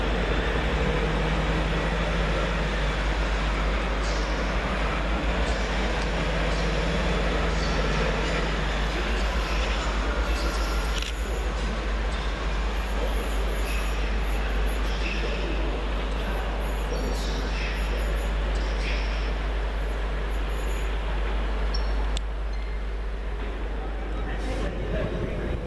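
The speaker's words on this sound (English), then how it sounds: "165 116 departs, working the 1307 Great Western Railway service to Basingstoke" A Great Western Railway Class 165 diesel unit, 165 116, pulls out of Reading station with a continuous low, rumbling engine drone that runs throughout, while voices murmur in the background.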